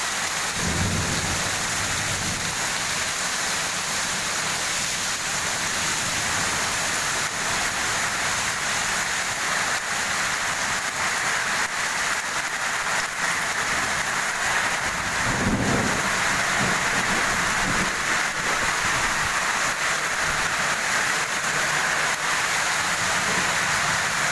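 Steady, heavy unseasonal rain in Dharashiv (Osmanabad) district pours without pause, with a low rumble of thunder rolling in about midway.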